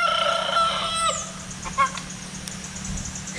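A rooster crows once nearby, a drawn-out harmonic call in the opening second, outdoors against steady low background noise with a few faint chirps afterward.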